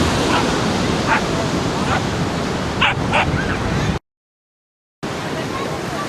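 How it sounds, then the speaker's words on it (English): Ocean surf on the North Cornwall coast, a steady wash of breaking waves roaring close and loud, with dog barks and yips over it and a short gap of silence near the end. "the waves absolutely crashing in"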